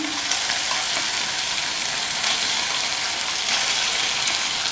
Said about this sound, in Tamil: கொழுக்கட்டையை சேர்த்ததுக்கப்புறமா சிம்மிலேயே வச்சு நல்லா பிரட்டி விடுங்க.